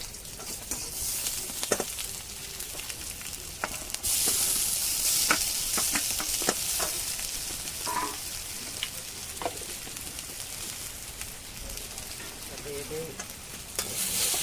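Slices of taro frying in hot oil in a village kitchen, a steady sizzle with occasional crackles and stirring clatter that swells partway through, no talking.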